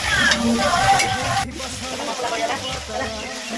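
Onion masala frying in a pan for a Sunday special chicken dish, a steady close sizzle with stirring scrapes throughout, while a voice talks over the cooking.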